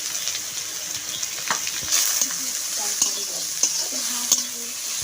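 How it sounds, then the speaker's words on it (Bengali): Onions fry in mustard oil with dried red chillies, bay leaf and cumin seeds, giving a steady close-up sizzle broken by several scraping stirs and light taps of a spoon in the pan. "পেঁয়াজটা ভাজা হয়ে গেছে,"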